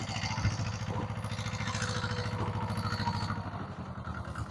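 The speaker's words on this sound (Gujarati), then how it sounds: "અને ટ્રેક્ટર ચાલુ છે." A tractor engine runs steadily in a farm field during cumin sowing, giving a moderately distant, even chugging drone with a faint rhythmic clatter throughout.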